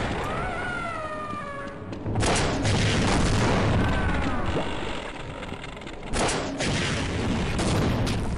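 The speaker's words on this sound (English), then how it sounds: "I'll use the rocket launcher then" Rocket launcher fire in the Half-Life game during a boss fight: heavy booming blasts and rumbling explosions in two loud waves, with whining sweeping tones and mechanical noise between them.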